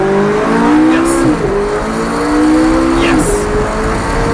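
Lamborghini or McLaren supercar accelerating hard on a race track, engine climbing through gears with two rising revs and a shift between them, close and loud, with a voice talking over it.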